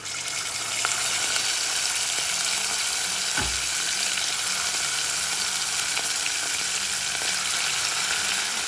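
Cooked lentils go into a sizzling tempering with asafoetida for Andhra gongura dal, keeping up a loud, even crackle and hiss with one dull thud partway through.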